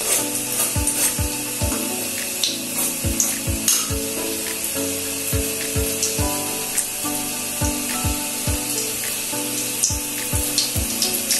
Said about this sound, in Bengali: এই করলাগুলো ভাজতে সময় লাগবে 12 মিনিট।